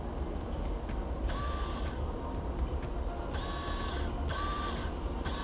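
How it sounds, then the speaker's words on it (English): Helicopter trim actuators run as the trim switches are worked: a steady mechanical whir broken by short bursts of electric motor buzzing, several on-off pulses, close and moderately loud. "So here I'm just actuating the trim switches, as you can hear."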